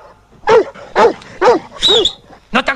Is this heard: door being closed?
no